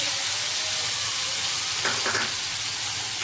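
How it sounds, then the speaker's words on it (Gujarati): Peas and chopped garlic sauté in a hot oil pan with asafoetida, curry leaves, bay leaf and cinnamon, giving a loud, steady sizzle and hiss throughout, with faint stirring near the end. "હવે આપણે થોડું સાતળી લઈશું."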